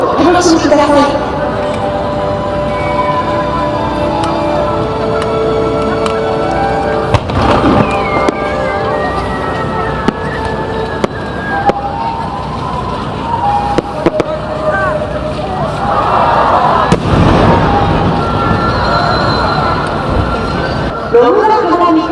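A fireworks display at Hiroshima port booms and crackles continuously with bursts and whistling trails. A Japanese announcer speaks over the show, and the shells include starbursts from Nomura Fireworks.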